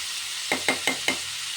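Onions frying in a pan, with a steady sizzle broken by four quick scraping strokes of a spatula in an even rhythm, close by with no voices.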